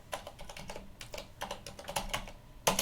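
A password typed on a computer keyboard, a quiet run of quick, irregular key clicks at close range, ending in one sharper, louder keystroke.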